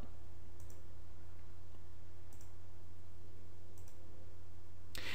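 Computer mouse clicks on an office PC, a few sharp isolated clicks spaced over a low steady hum, the last one louder and closer.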